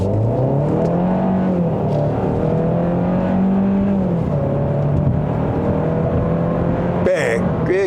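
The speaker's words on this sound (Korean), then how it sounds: "자, 급가속을 한번 해보도록 하겠습니다." A Kia Sportage 1.6 turbo accelerates hard in sport mode, its engine note climbing steadily in pitch, dropping at a gear change and then rising again, heard loud from inside the cabin with a short sharp noise near the end.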